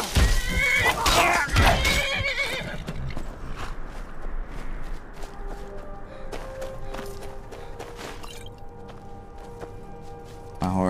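A horse whinnies loudly in the video game Skyrim, a shrill neigh over the first few seconds, followed by quieter clip-clop hooves, creaks and mechanical game sounds.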